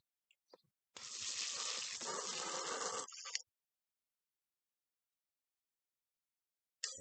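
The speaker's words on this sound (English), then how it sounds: "water it in well" Water pours steadily from a hose or can onto potatoes in a container for about two seconds, then sputters to a stop, with a short splash returning at the very end.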